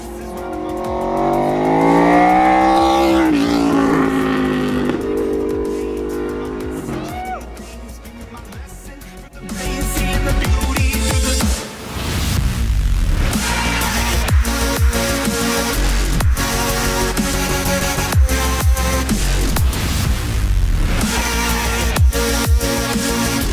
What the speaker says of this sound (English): you'll get a taste of the awesome power of the Aprilia RSV4